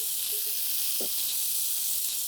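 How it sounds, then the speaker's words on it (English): Eggplant sizzles in a hot skillet with olive oil, a steady bright hiss of frying with a soft stir or clink partway through, close and continuous, without talk. "There we go, a good sizzle."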